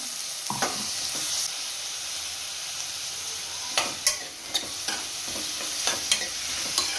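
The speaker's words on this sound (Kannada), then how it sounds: "ಇದು ನೀಟಾಗಿ ಫ್ರೈ ಆಗಲಿ" Ginger garlic paste fries with onions in a pan, making a continuous close sizzle, and a spoon stirs with several scraping clicks and taps near the end, with no one talking.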